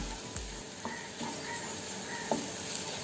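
Okra curry with black pepper powder mixed in a pan over steady sizzling, with soft intermittent scrapes of a spoon against the pan, fairly quiet and continuous.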